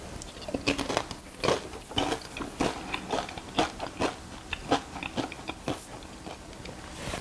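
Close, crisp crunching and chewing of a tortilla chip loaded with corn and black bean salsa, a steady run of sharp bites and chews with no talking.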